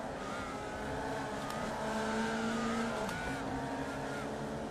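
Race cars in the iRacing sim game, GT3 machines at Mugello, with steady engine drone and gliding pitch sweeps as cars accelerate and shift, a continuous moderate roar throughout with no talk.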